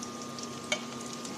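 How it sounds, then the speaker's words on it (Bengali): Onion and chili frying in mustard oil give a steady, soft sizzle with a single brief clink of a utensil partway through. No one speaks. "সরিষার তেল, পেঁয়াজ মরিচটা একটু ভেজে নেব।"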